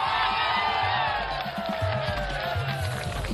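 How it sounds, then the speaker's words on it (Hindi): A crowd at a public debate event in Madhepura cheers and shouts, a loud, busy roar of many voices with some clapping and low thumps underneath throughout. "तालियां हो जाए।"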